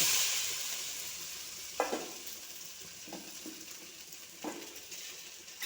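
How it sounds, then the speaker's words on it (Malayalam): Jackfruit pieces sizzle in hot ghee in a pan, a soft, steady frying hiss broken by a few scraping stirs close by. "ഇപ്പോൾ നെയ്യ് ഒന്ന് ചൂടായി വരുമ്പോഴത്തേക്ക് നമുക്ക് ഈ ചക്ക അതിലോട്ട് ഇട്ട് കൊടുക്കാം"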